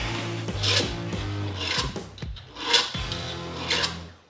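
Hand filing or deburring of metal parts from a Foxbody rear disc brake conversion, a rasping scrape repeated in several strokes over a few seconds, close and alone.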